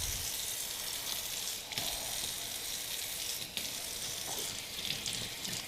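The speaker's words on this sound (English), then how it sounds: "So now I got to clean them and wash them with soapy water." Canning jars are washed in soapy water at a sink, with steady running water hissing throughout and occasional soft clinks and splashes, fairly quiet and close.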